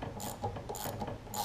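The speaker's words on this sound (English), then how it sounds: "I'm going to go ahead and finish putting these back on with the ratchet" Ratchet wrench clicking in short bursts while tightening bolts on a Briggs and Stratton plastic carburetor at a workbench, three quick ratcheting runs close by with no talking.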